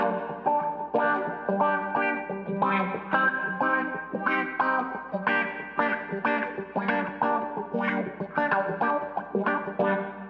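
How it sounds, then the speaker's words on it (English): An electric guitar strums rhythmic chords of a song through a wah pedal, its tone sweeping to treble to accent the hits, with no voices. "I'm rocking the wah. So I go to the treble sound on the hits to accentuate them."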